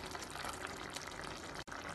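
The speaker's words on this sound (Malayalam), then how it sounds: "ചാറിന് വേണ്ടുന്നത്ര മിക്സിയിലെ ജാറ് കഴുകി വെള്ളം ഒഴിക്കാം" Water from a rinsed mixer jar poured into a pot of chow chow curry with ground coconut, a steady, fairly quiet splashing flow that runs on briefly and alone.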